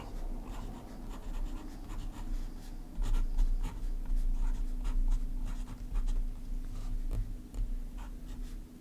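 Broad-nibbled fountain pen scratching across paper in bright blue ink that is running low, with a steady close-up stream of faint strokes and small taps, alone and unhurried.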